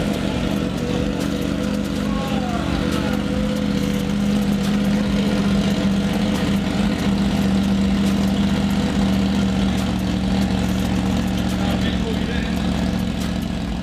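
A motorcycle engine running with no exhaust fitted, a steady raw idle droning throughout at close range with a constant low hum, fairly loud and unbroken, with no change in revs.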